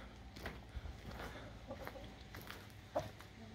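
Backyard chickens near a newly built wooden duck hut cluck quietly in short scattered calls over soft outdoor background noise, fairly distant and faint.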